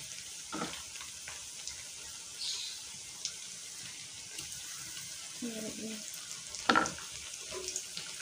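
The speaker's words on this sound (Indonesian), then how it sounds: "kita akan lanjutkan menggoreng" Oil sizzles steadily in a pan with occasional clinks and stirring scrapes, while a voice talks briefly in the background.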